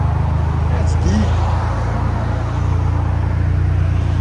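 A 2012 Audi TTS with a 2.0L turbo engine and a Vibrant resonator idles steadily with a deep, even low rumble, loud and close throughout, with a brief faint sound over it.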